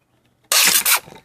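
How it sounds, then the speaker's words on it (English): A steam-filled plastic bottle heated in a microwave implodes as the steam condenses and water is sucked in, making one sudden loud whoosh-crack lasting about half a second, broken by a brief dip, then fading out. "There is a mini explosion as the water gets sucked in with force into the bottle as the steam compresses and vacuum is created."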